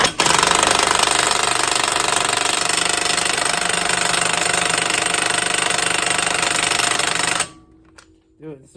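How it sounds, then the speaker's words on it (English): An impact wrench on its second setting hammers a nut on the axle of a 1997 Honda Civic, a loud, close, continuous rattling burst lasting several seconds before stopping abruptly, followed by a quiet voice. "I put my impact wrench on setting 2."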